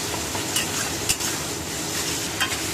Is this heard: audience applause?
no